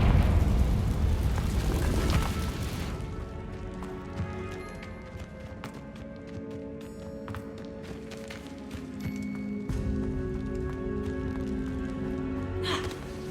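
A blasting spell explodes in Hogwarts Legacy inside the Feldcroft Catacombs, a deep rumbling boom at the start that rolls away into scattered debris rattles and a quieter ambient echo.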